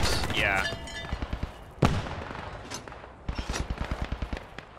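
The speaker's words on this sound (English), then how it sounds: "He's shooting left side of that tank." Gunfire in the video game Post Scriptum near a tank: sharp rapid bursts of machine-gun fire, one heavy crack and a further volley of quick shots. The shots come from mid-distance, and people talk over them.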